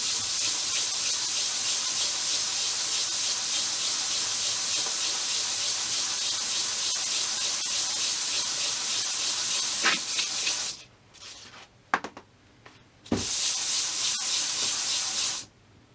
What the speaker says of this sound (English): So after about 5 minutes on the really heavy aluminium oxide sandpaper